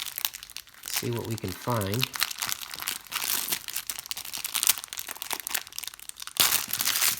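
Crinkling, tearing plastic wrapper as a rack pack of 1989 Topps baseball cards is ripped open, close and steady over several seconds, with a person talking briefly partway through.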